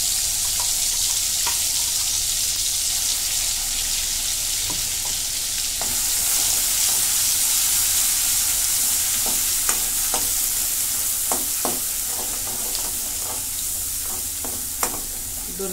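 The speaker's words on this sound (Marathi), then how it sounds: "दोन मिनिटं परतून घेते" Ground garlic, ginger, coconut, yogurt and sesame paste frying and being stirred in a pan, a steady loud sizzle with scattered clicks of a spoon against the vessel throughout, no voices.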